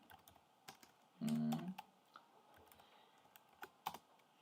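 Keys clatter on a computer keyboard in scattered, quiet taps close by, with one brief dense burst of rapid typing early on.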